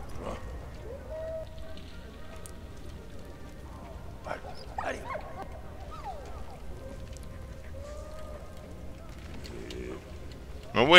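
A dog barks in the World War I video game Valiant Hearts: The Great War. A few short, sharp barks stand out from a quiet bed of game ambience and chirping birds.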